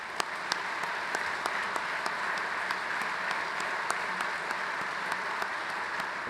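Convention audience at an IAFF firefighters' union gathering applauds an award honoree; steady, moderately distant crowd clapping, with a few sharper individual claps standing out through the whole stretch.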